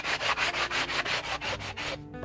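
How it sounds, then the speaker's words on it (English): Rough edges of a small wooden plank board being hand-sanded with a cheap sandpaper block, a loud close rhythmic rasping of about ten quick back-and-forth strokes with no talking. "just sand down the rough edges from our little plank board here using this Dollar Tree handy dandy sandpaper tool"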